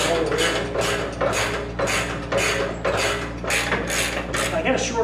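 Socket wrench ratcheting on bolts while swapping the bumper of a 2014 Jeep Wrangler JK, repeated bursts of close, loud metallic clicking in a steady rhythm.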